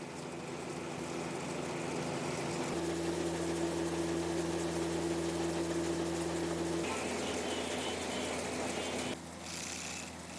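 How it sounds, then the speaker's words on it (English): A grain dryer and blower run at a processing plant for grains and oilseeds, a steady loud mechanical roar with a sustained hum that drops out partway through, then continues alone. "The blower is used to ensure the long-term storage of the grains."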